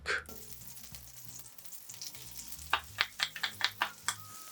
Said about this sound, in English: Once the butter has melted, in goes 2 cloves of minced garlic.